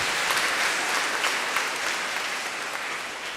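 Loud, steady applause from a crowd gathered in a church hall for a priest at a harvest festival, dense clapping filling the whole stretch without pause and fading slightly toward the end.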